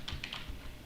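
A few quick keystrokes tap on a computer keyboard up close, light clicks in a brief burst with no talking.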